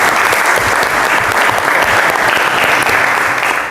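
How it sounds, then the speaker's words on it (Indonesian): Students and staff gathered at a school counselling session break into loud, close, continuous clapping that holds steady for its whole length. "Oke, tepuk tangan buat kita semua."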